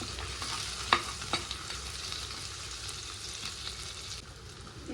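Green chillies fry with onion and ginger garlic paste in a clay pot for a village-style chicken curry, giving a steady close sizzle broken by a few sharp stirring clinks near the start.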